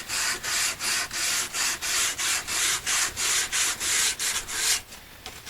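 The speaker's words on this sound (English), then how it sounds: "Once we get some of that sanded down, those come off." Rhythmic back-and-forth sanding strokes rub over the fuzzy edges of a wooden bread box, about a dozen loud, close, evenly spaced passes with no talking.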